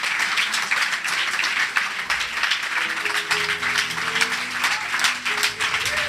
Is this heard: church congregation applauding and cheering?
yes